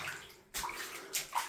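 Floodwater sloshing inside a flooded house bathroom in Vejle, a short burst of splashing and gurgling water after a brief quiet gap, with a couple of louder surges near the end.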